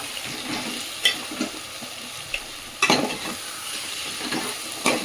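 Spices for khichuri with whole green chillies and chilli powder frying in a pan, giving a soft sizzle punctuated by a few distinct scrapes and taps of a spoon stirring.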